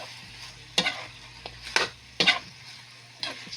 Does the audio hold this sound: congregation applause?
no